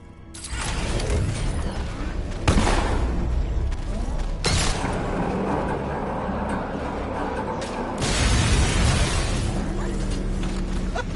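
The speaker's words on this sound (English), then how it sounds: "Ace Chemicals is still about to explode." Ace Chemicals blowing up in the video game Batman: Arkham Knight: loud, heavy blasts and crashes burst out at several points over a continuous rumbling, mechanical roar.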